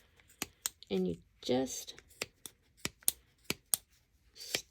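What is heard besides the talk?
scissors cutting through layers of yarn pom-pom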